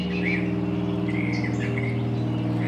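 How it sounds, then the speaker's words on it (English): Birds sing and chirp in the morning outdoors, several overlapping calls against a steady low background hum, with no talking. "I'm gonna sit here and enjoy the morning birds and roosters"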